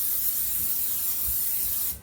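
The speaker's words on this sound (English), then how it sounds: "gonna go ahead and spray my pan with cooking spray" Cooking spray hisses from a can onto a baking dish in a home kitchen, a steady close spray held for about two seconds before stopping.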